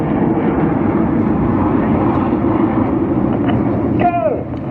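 Red Arrows jets performing rollbacks at an airshow give a loud, continuous roar throughout, with a falling whine sweeping down near the end as the formation passes.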